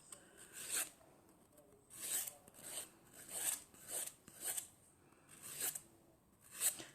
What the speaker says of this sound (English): with the softer side of my file, I'm gonna go around my cuticle